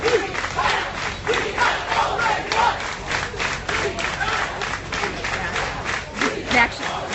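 Protest crowd in Charlottesville, Virginia clapping in a steady rhythmic beat, dense and fairly close, with shouting voices mixed through the clapping.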